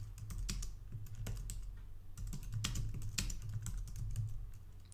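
Computer keyboard typing while restarting an SSH service, steady quick clicks with several sharper keystrokes, close and fairly loud over a low hum, no voices.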